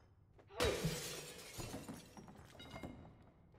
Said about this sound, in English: Gotta bust that glass open.